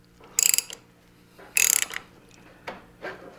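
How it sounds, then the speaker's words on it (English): A Suzuki V-Strom 650XT fork cap is worked loose under spring pressure, giving a few sharp, close metallic ratcheting clicks and rattles in short bursts with quiet gaps between. "I'm going to remove these caps, and there'll be a little bit of pressure when that jumps up"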